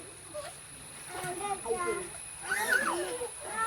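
Children splash and play in the flowing water of a small waterfall, their excited voices chattering over steady splashing and the rush of the stream.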